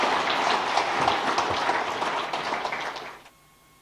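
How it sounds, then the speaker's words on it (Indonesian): Audience at a political party's iftar gathering breaking into lively applause, a dense wash of clapping that holds steady for about three seconds before cutting off into near silence. "Nah, sekarang boleh tepuk tangan yang meriah."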